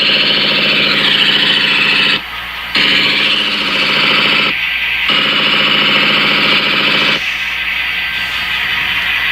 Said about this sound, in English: I'm going to charge the train line.